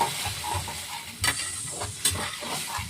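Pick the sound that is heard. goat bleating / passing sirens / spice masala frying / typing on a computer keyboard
spice masala frying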